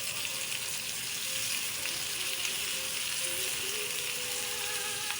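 Chicken sizzles and fries steadily in a pan after soy sauce goes in, a constant hiss holding at close range for the whole stretch, with no one talking.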